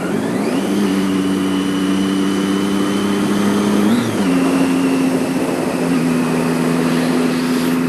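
Motorcycle engine droning steadily while riding through countryside, with a loud continuous hum and wind rush, a rise in pitch through the gears and a brief dip around a shift midway, no talking.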